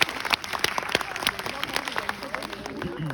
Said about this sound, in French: Encouragez, applaudissez pour moi.